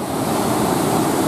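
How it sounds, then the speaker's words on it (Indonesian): Ocean waves at Madasa beach surge and break in a steady broadband wash, loud and close, with no pause through the short stretch. "Allahu Akbar, ombak."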